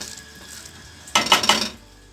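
Ingredients for chana aloo being stirred and mixed in a pan, a short burst of metal utensil scraping and clattering against the pan lasting about half a second, fairly close, with no talking.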